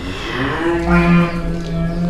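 Cattle in a barn, one loud, close, drawn-out moo rising and falling over about two seconds.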